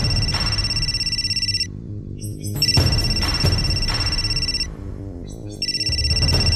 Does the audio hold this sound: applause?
no